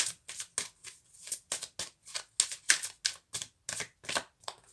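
Oracle cards are drawn and laid out one after another, giving a quick, rhythmic series of about a dozen soft, close card snaps and rustles in a quiet room.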